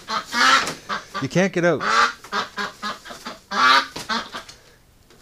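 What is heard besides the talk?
duck honking at a winter creek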